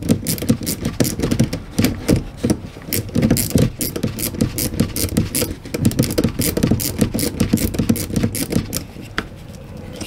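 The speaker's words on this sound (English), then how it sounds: "these ratchet wrenches make this job a lot easier too" Ratchet wrenches click and turn on the gearbox of a BAL Accu-slide room motor, a dense, close run of rapid mechanical ratcheting with small metallic taps that continues steadily throughout.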